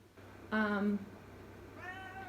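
A pet cat indoors gives two clear meows, the first loud and drawn out, the second softer and higher a second later, against a quiet room hum.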